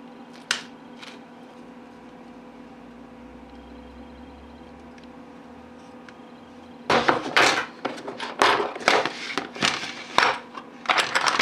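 Hand-cutting a thread with an old, rusty M2 tap, made up of a dense run of close, sharp scraping and clicking strokes that begin partway through after a quiet stretch with a faint click early on.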